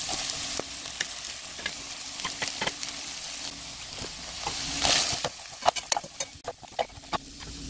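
Chopped green onion sizzling in an electric frying pan, with a soft continuous fry under sharp, irregular clicks and scrapes of stirring that grow busier toward the end.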